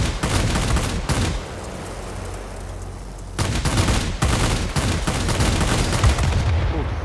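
Aircraft cannons in a combat flight game rip out long, loud bursts of rapid fire, broken by a short gap and then resuming in a steady, hammering stream.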